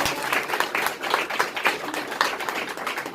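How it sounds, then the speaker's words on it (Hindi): An audience at an indoor meeting claps for a guest, a steady burst of many hands applauding close by without pause. "आइए ताली बजाओ सर के लिए एक बार"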